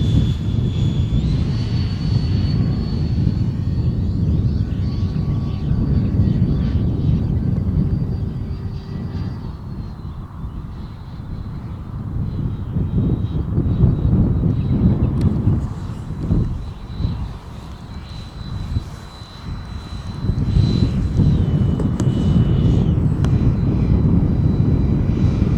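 A model F-16 fighter jet flies on its first flight at a model airfield, its turbine engine whining and roaring steadily at a distance, fading and swelling as it passes, with brief voices nearby.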